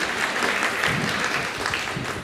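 Conference audience clapping at a tech talk, a dense burst of applause filling the hall, steady and fairly loud throughout.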